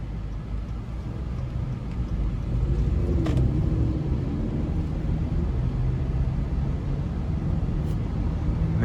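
A 2020 Acura TLX with a 2.4-litre engine cruises along, heard from inside as a steady low road and engine rumble with constant tyre noise and no talk.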